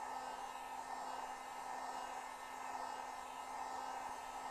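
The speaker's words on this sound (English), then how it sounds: "just get the heat gun, which I'm going to do" A heat gun warming a badge on a 2022 Silverado 3500 HD truck, a steady, even airflow hiss and whine that holds constant throughout, close and alone.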